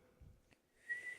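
A person whistles a thin, high note for a brief moment, imitating a bird. It is soft and comes after a quiet pause.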